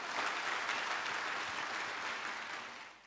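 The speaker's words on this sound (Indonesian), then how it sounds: "Tepuk tangan bagi Allah kita." A church congregation at a Christmas service claps together in a dense, sustained round of applause that holds steady, then eases slightly toward the end.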